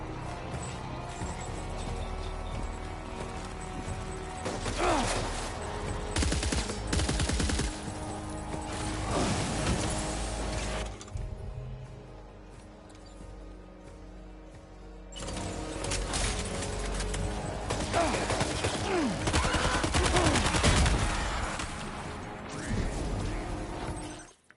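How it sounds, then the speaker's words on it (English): Assault rifle fire in the video game Death Stranding 2, with dense bursts of shots and impact crashes mixed into a busy game soundscape. It is moderately loud, and a quieter lull falls in the middle. "Warrior assault rifle"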